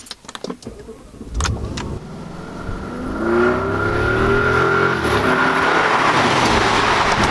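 A few clicks and thumps, then a 2007 Audi S6 engine starts a low, steady grumble that builds slightly and holds, close and fairly loud with no talking.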